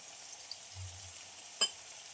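Vegetables coated in homemade black masala fry in a pan, giving a faint, quiet sizzle with one brief clatter of stirring near the end.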